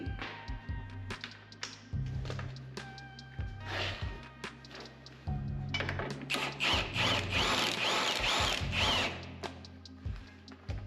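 A power tool snugs down a ball joint nut on a MK7 Ford Transit lower arm, heard as several short, faint bursts of whirring and rattling impacts mixed with metallic clanks and handling knocks, nearby but quiet.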